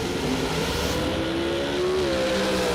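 Dragster launching down a drag strip at a Superbucks bracket race, a loud sustained engine roar with rising pitch as it accelerates away, continuous and steady, with no talk.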